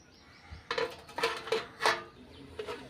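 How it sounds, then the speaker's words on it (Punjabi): A lid clatters onto a metal pot of ridge gourd curry, giving a few separate clinks and taps close by, with no talk. "ਹੁਣ ਅਸੀਂ ਆਪਾਂ ਜੀ ਇਹਨੂੰ ਢੱਕ ਦਾਂਗੇ"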